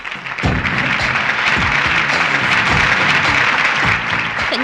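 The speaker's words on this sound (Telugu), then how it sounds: "క్లాప్స్!" Audience applause rises at a college prize-giving ceremony, steady dense clapping sustained for several seconds, loud and close, with no talk over it.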